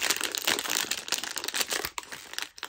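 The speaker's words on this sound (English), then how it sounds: "we have our traditional Superplastic foil packet" A Superplastic foil packet being torn open and handled, giving continuous close crinkling and tearing rustle with brief pauses, no voices.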